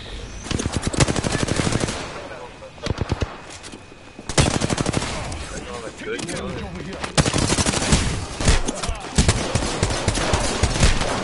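P2020 and R99 gunfire in Apex Legends comes in three loud, close bursts of rapid automatic shots separated by brief lulls, each a dense rattling stream, with faint game noise between.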